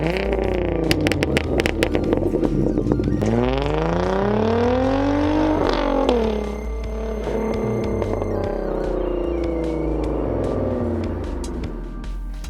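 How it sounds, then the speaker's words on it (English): A Hyundai Genesis Coupe engine with an aftermarket exhaust revs hard and close, its throaty tone rising and falling in several sweeping pulls, loud and alone without talk. "Or if you want, you can get an aftermarket exhaust."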